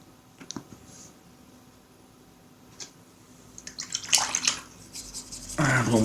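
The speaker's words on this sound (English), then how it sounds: "And we'll wash our brush out" A paintbrush rinsed in a water pot while miniatures for the Dungeon Saga board game are painted, with faint taps and trickles early on, then louder swishing and splashing near the end, close by.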